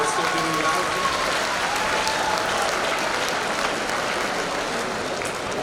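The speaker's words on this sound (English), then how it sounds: "a round of applause for yourselves" Dense, sustained applause from a school audience at a Founder's Day assembly, steady broadband clapping throughout with a faint voice under it.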